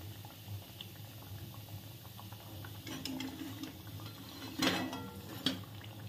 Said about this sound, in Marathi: अशाच प्रकारे आपण सगळ्या वड्या तळून घेऊया.